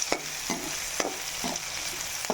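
Onion and spices are stirred in a frying pan with a light steady sizzle, punctuated by several sharp clinks and scrapes of the spoon against the pan, close and moderately loud.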